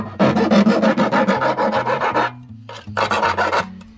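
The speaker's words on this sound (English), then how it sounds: "We use the grinder to take these corners off here." An angle grinder cutting the corners off a hole in a van's metal panel during a camper conversion, giving a loud rasping grind in rhythmic pulses, a short pause, then another burst, close up.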